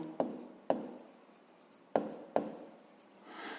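Writing out a fifth-grade maths solution: four crisp, separate pen strokes tap down close by, with quiet scratching between them and a soft rustle at the end.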